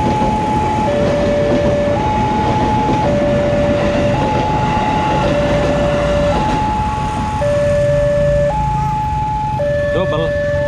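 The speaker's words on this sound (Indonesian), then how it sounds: "Keretanya berangkat menuju stasiun Duri." A train departs toward Duri station at a level crossing, with a loud steady rumble of the train under an alternating two-tone crossing bell that repeats throughout, close by.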